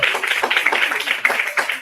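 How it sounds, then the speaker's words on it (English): An audience claps in a short burst of brisk, close applause lasting about two seconds, with faint chatter mixed in. "Give Dr. Sean Fair another round of applause."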